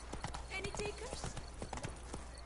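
Geralt's horse Roach trots in The Witcher 3, a close, quick clip-clop of hooves in an even rhythm, with a voice speaking briefly over it.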